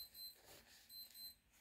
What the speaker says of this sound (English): that's weird. You guys hear that? The timer?